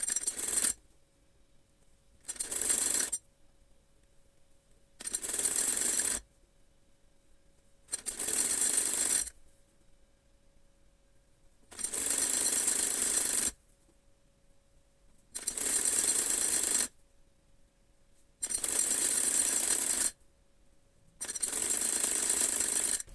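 A sewing machine stitches the cuff of a hijab in eight loud, steady bursts of rapid needle chatter. The bursts are separated by short pauses with a faint hum, and no voice is heard.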